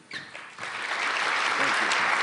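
Audience applause for Mike Vrabel, newly introduced as head coach of the New England Patriots, starting thin and swelling into steady, fairly close clapping from a press gathering.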